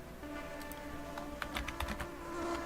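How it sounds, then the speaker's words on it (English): Quick, irregular clicks of keys being typed on a computer keyboard, a short burst of taps midway over a steady background hum, fairly faint and close. "I don't know if you can hear my keyboard there."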